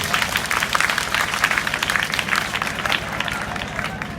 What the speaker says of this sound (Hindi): वंदना के लिए जोरदार ताली बजाओ।